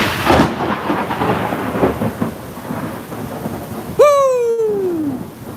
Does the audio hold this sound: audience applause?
no